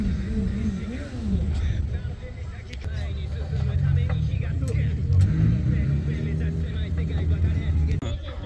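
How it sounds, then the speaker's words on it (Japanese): A kei truck rolls in as a rescue vehicle at the Motorland Mikawa circuit during a motorsport event. Its engine rumbles steadily and fairly close under voices talking. "軽トラ登場。"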